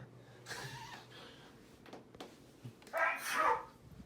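A short, sharp sneeze bursts out near the end, loud and close, after a few quieter rustles and faint sounds.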